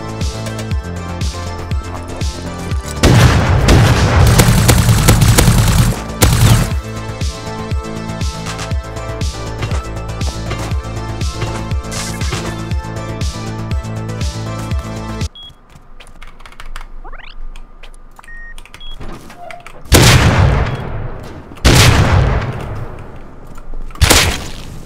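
Gunshots in the survival game Rust, repeated sharp bursts of rapid fire over a steady backdrop, then a quieter stretch broken by a few more loud shot clusters.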